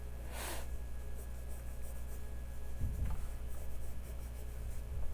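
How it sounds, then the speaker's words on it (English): A pencil or pen scratches lettering onto paper in a few short strokes, faint and close, with a soft rub and a breath between marks. "Draw your middle."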